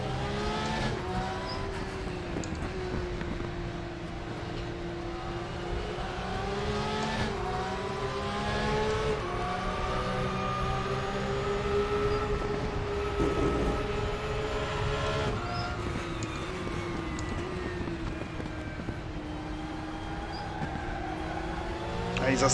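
Porsche Cup race cars accelerate in the RaceRoom racing game, with a continuous engine drone that rises and falls in pitch as the cars shift gears, steady and fairly loud throughout.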